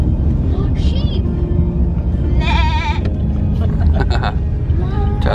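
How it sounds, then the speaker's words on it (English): Sheep near the sea at Reighton Sands in Yorkshire give several wavering bleats, heard from inside a moving car over steady engine rumble, with people talking nearby. "Oh, sheep."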